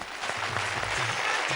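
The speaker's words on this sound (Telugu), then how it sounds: "డాన్స్ చేస్తుంటే కొడతాం కదా మనం క్లాప్ సుమాన్" Audience clapping during a dance performance on a Telugu television game show, a steady dense patter of many hands that fills the short stretch at an even level, with no talking.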